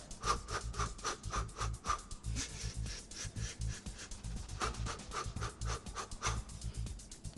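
Rhythmic, close breathing in and out during an uppercut boxing workout, heavy panting bursts repeating steadily with soft scuffing movement, no talk over it.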